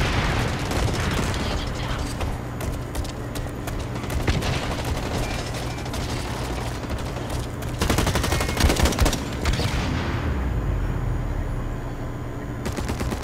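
Machine gun fire in the shooter video game Blacklight: dense rapid bursts of shots and mechanical clatter run throughout at moderate loudness, with a heavier cluster of blasts in the middle and no talking.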